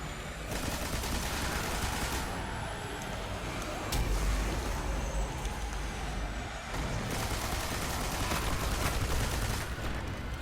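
Dense, continuous gunfire fills the Destiny Sunless Cell Nightfall, fought solo as a Hunter with the 4th Horseman shotgun, with heavier bursts and sharp impacts breaking through the steady loud battle din.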